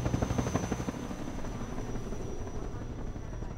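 A helicopter in the video game Half-Life 2 thumps steadily with its rotor, a droning engine and a thin high whine, loud and continuous throughout.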